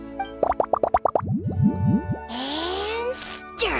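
Ingredients such as lizard tails, fish scales, mucus and slime condensate plop into a drink in a video game: a quick run of about eight wet plops, then springy gloopy boings, followed by a bubbling fizz and a sharp bright splash.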